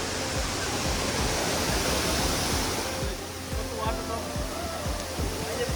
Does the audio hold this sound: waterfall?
yes